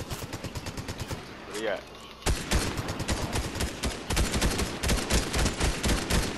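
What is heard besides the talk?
gunfire in the video game Fortnite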